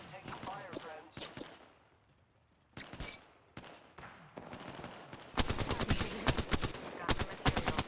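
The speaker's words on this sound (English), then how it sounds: "The enemies are shooting at me." Bursts of enemy gunfire in the video game Apex Legends, scattered sharp shots early on, then a dense, loud sustained volley of rapid fire in the final seconds.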